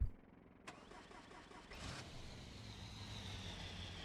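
An inline-8 car engine starts in a video game: a short cranking burst, then a catch into a steady, low, rumbling idle that holds to the end, fairly quiet and alone.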